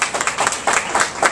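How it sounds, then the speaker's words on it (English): Brief burst of crowd clapping at a community ward candidate forum, close and loud, with several distinct claps in a quick uneven rhythm. "Give yourselves a round of applause."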